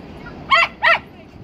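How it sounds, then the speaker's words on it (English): A dog gives two short, sharp barks in quick succession at a ball on a Santa Cruz beach, fairly close and loud over a quiet background. "When he gets mad, he barks at the ball."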